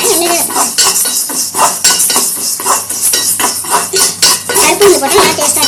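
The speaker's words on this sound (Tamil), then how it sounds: "நான் எல்லாம் எண்ணெயில் தான் கொஞ்சம் எண்ணெய் போட்டு வறுக்கிறேன்" A spoon scrapes and clinks against a pan again and again, close and loud, as chana dal roasts in a little oil, with a faint sizzle beneath.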